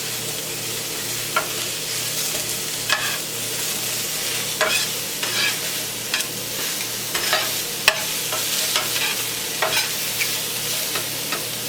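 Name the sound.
vegetables being stirred and sizzling in extra virgin olive oil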